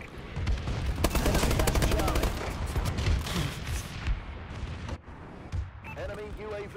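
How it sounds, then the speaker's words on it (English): Bombing run in Call of Duty: Advanced Warfare multiplayer, a loud dense barrage of explosions and rapid gunfire rumbling for several seconds, with game announcer voice and synthetic effects layered on top. "Enemy bombing run overhead."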